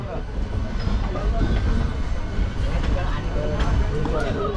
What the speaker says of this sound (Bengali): ওদিকে কাঞ্চনজঙ্ঘা এক্সপ্রেস যাচ্ছে